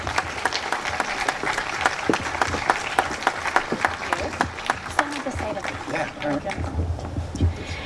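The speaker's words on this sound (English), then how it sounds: "Give a round of applause for Gracie Vandermark." A crowd at a cabin's 100th-anniversary celebration claps for the mayor of Huntington Beach, with steady applause and scattered cheers throughout, loud and close.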